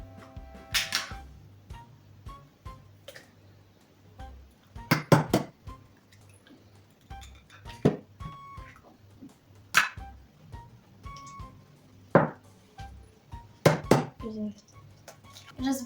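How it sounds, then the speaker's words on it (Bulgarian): Eggs are cracked into a bowl one by one, with sharp knocks and clinks of shell on the dish spaced several seconds apart, close and clear against a quiet room. "Сега ще щупим яйцата. Много здраво. И ги слагаме едно по едно."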